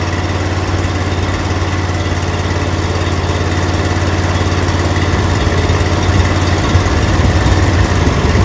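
Car engine running steadily during an alternator test, a continuous low droning hum at constant speed, close and fairly loud, with no voices.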